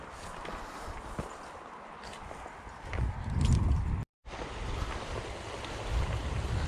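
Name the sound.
footsteps walking along a riverbank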